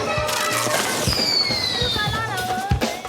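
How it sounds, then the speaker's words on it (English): Kids set off fireworks in a medina in Libya: sharp firecracker bangs and pops, a whistling rocket streaking upward with a falling tone, and scattered cracks, loud and nearby amid crowd noise and voices. "Kids are setting off fireworks in the Medina."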